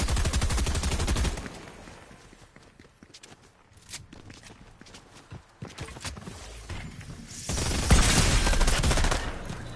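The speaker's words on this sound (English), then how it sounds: "I thought I heard a charge shotgun going off" Gunfire from a charge shotgun in a Fortnite match, sharp bursts and rattling shots scattered through a noisy game soundscape, louder at the start and near the end, with no talk.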